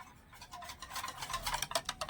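Mihidana batter stirred in a bowl, a spoon scraping and clicking in quick irregular strokes that grow a little louder toward the end, heard alone without voices.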